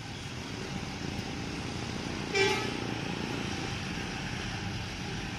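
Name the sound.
ANS Alika bus at Muara Bungo terminal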